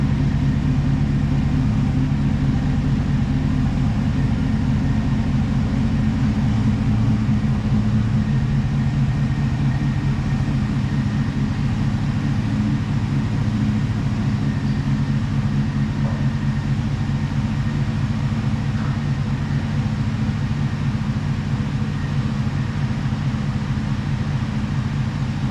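A lifted Chevrolet 2500HD pickup on a 7-9 inch McGaughys lift, its engine rumbling low and steady as it is pulled out and eased back in, loud and continuous with no talk.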